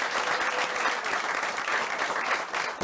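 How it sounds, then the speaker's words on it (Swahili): A television studio audience applauds a guest at the close of a live talk show, dense steady clapping filling the room without a break from start to finish. "Wapi makofi ya guest wetu wa leo."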